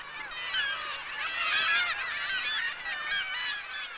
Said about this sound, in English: A kittiwake breeding colony is an extremely noisy place, as each pair proclaims ownership of its own particular ledge.